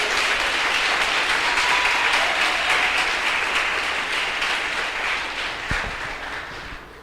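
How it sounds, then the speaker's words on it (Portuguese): A church congregation applauds in a sustained wash of clapping that gradually thins out toward the end, with a sharp thump near the close. "Você pode aplaudir o nome do Senhor."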